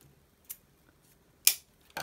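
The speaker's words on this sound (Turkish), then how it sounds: "Şimdi ipi kesiyorum." Scissors snip through yarn in a few sharp, close cuts separated by quiet pauses, with one cut noticeably louder than the others.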